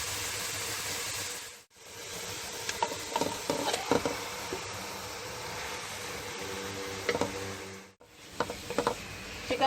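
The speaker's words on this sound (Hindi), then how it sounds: "अब हम इसमें गार्लिक पेस्ट शामिल कर रहे हैं। 1 से 2 मिनट हम इसको चलाएंगे।" Onions and garlic paste stir-fried in a pan for a chicken burger filling, giving a steady close sizzle with scraping spoon strokes, broken by two short pauses, with no talking.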